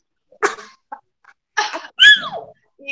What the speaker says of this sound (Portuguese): Então, o espirro.